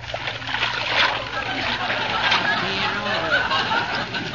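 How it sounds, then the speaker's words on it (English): A radio sound effect of an armful of spaghetti tossed into a boiling wash boiler, a loud sloshing splash and churning water playing under conversation. "Molly, while I toss in the spaghetti"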